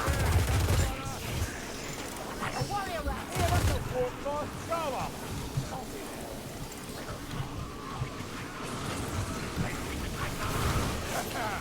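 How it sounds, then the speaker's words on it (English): Gunfire and explosions in the video game Against the Grain, with bursts of shots and a busy, dense mix of combat noise running throughout, with a few sharp loud blasts early on. "this is a lot of fire that sounds like it's going on out here"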